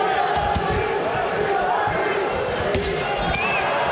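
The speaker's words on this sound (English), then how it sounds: "and the crowd respond." Loud arena crowd at a heavyweight boxing match in Munich, roaring and surging in reaction to heavy punches, with a dense, continuous wall of cheering and shouting throughout and sharp thuds cutting through.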